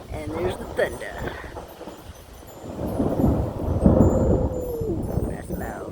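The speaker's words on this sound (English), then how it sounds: "And there's the thunder." Thunder from an approaching thunderstorm on the outskirts of Hurricane Hilary rumbles low and broad for several seconds, growing louder midway, with rain in the background and people talking quietly.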